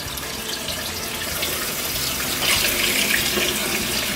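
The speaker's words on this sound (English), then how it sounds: "You want to start with cold water." Cold tap water runs steadily into a pot of eggs, a continuous close splashing gush that grows slightly fuller and brighter as the pot fills.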